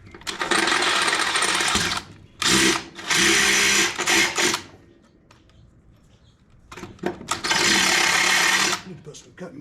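A power drill bores a hole through a Toro 22-inch Personal Pace self-propelled push mower part in a workshop, whining loudly in three separate bursts with quiet gaps between them where a voice briefly speaks.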